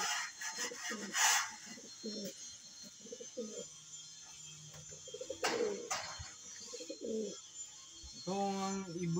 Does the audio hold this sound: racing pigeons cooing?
yes